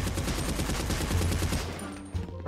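Rapid bursts of gunfire crackle continuously in GTA roleplay zombie server FiveZ, dense overlapping shots and automatic fire, loud and close, tapering slightly near the end.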